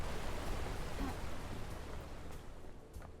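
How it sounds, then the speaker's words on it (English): Loud, steady rushing of flowing water in the video game Paradise Killer, a broad hiss that continues without pause and eases slightly toward the end. "Man, that water is loud."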